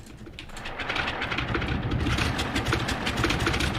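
A DHC-2 Beaver's piston engine in a Thranda flight simulator runs rough and strained, a steady loud drone with uneven pulsing throughout, no talking.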